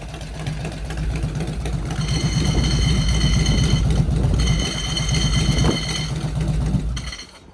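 An Evo big twin chopper engine idling with a loud, lumpy, uneven throb, a higher whine coming and going, before it sputters and stalls near the end.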